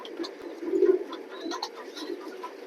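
Male racing pigeons coo in a steady, low murmuring chorus, with a slightly louder swell of cooing near the middle and no talking.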